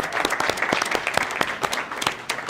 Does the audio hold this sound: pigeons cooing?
no